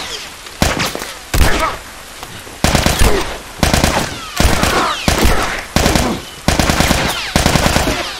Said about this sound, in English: I hear him up ahead. He's shooting at nothing.